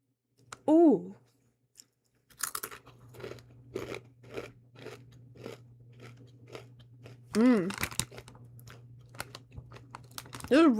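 Intense Nacho Doritos chips crunch and get chewed close to the microphone in a run of crisp, irregular bites, with a voice heard briefly around them.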